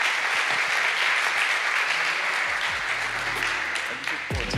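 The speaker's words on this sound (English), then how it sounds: "So big applause." Audience applause at an award ceremony: a dense, sustained wash of clapping from a large crowd that holds steady, then thins toward the end as a voice starts speaking underneath it.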